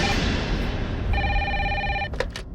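An official landline telephone at a police station in a comedy drama rings once, with an electronic trill lasting about a second over background noise, followed by a few quick clicks.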